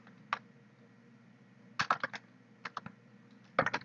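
Fingers type code on a computer keyboard nearby, with sharp key clicks arriving in small bursts of two to four strokes separated by brief pauses over a faint background hum.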